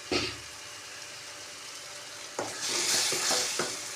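Tadka tempering for dal sizzles in a pan with a steady hiss, then flares louder and more crackly as something is added and stirred.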